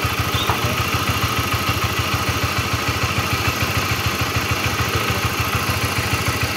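A Honda CB series motorcycle engine idling up close, with a steady, rapid rhythmic knocking clatter from a worn cam chain tensioner throughout, loud and continuous with no talk.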